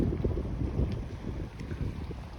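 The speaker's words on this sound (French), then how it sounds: "il y avait du vent, comme vous devez l'entendre" Gusty wind buffets the microphone with a continuous low rumble, loud and close, with no voices.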